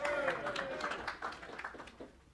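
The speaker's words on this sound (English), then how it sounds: "round of applause for Robert" An audience claps for a presenter at a woodturning demonstration, a short burst of indoor applause from a small crowd that fades out over a couple of seconds, with a voice speaking over it.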